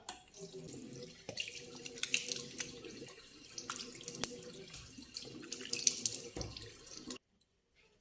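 Tap water running into a sink while a face is being washed, close splashing and trickling with hands moving through the stream, then stopping abruptly near the end.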